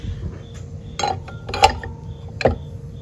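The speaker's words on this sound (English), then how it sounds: "get myself a wrench and take these off" Metal wrench clanks and clicks against the nuts holding the wheels on a lapidary cabochon machine, a few sharp knocks at about one, one and a half and two and a half seconds, close and alone with no talking.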